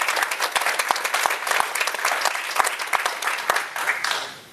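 Audience applause for a panel at a social enterprise forum on accessing finance, a sustained loud spread of clapping with distinct sharp individual claps standing out near the microphone.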